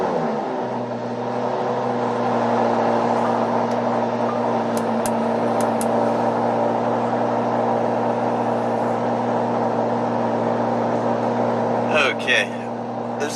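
Cold start of a 2015 Lamborghini Huracan in January: a steady, loud engine idle with strong low harmonics holds throughout, with a few brief clicks and sharper bursts along the way.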